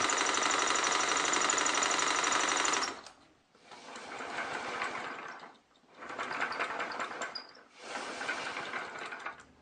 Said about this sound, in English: here I'm actually using the air engine to pump air to power the other air engine